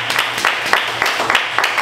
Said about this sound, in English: Let's clap for the Lord Almighty for that.